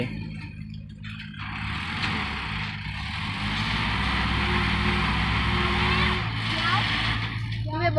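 A tractor engine drones continuously while a boy drives it pushing earth, a low steady rumble with slight changes in load, as people talk over it throughout.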